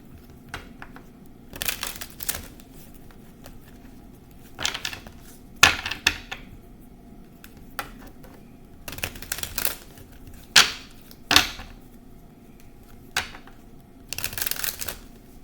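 Tarot cards shuffled in repeated bursts of riffling and flicking, close by, with short pauses between each pass.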